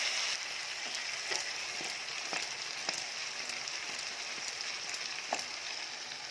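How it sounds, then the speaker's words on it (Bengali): Spices and mutton fry in a pan with a steady, fairly quiet sizzle, broken by a series of sharp clicks as a spatula stirs and scrapes the pan. "মশলাটা দিয়ে একটু নাড়াচাড়া করে মাটন দিয়ে কষবো।"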